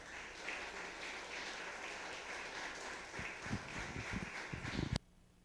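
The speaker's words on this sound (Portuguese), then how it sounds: "Uma salva de palmas ao Senhor." A church congregation applauding during a service, steady dense clapping heard from within the room that swells briefly and then cuts off abruptly.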